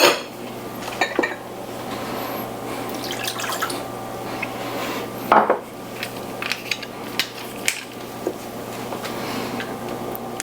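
Sauce ingredients, sugar and soy sauce among them, being mixed in a bowl for crispy Korean chicken: repeated clinks and scrapes of a utensil against the bowl with small drips and taps, close and fairly loud.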